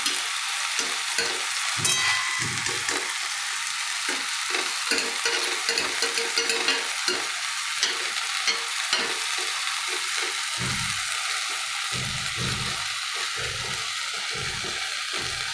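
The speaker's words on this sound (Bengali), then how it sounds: "আমার হয়ে গেছে কলমি শাক ভাজাটা।" Water spinach (kalmi greens) stir-frying in a hot pan, with a steady close sizzle and repeated rhythmic scraping strokes of a spatula running throughout, loud and continuous with no talking.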